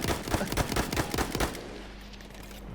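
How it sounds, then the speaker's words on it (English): Enemy gunfire in the video game Battlefield 1, a rapid burst of close, loud shots for about a second and a half, then fading into a quiet low rumble, with no talk. "he's just firing at me"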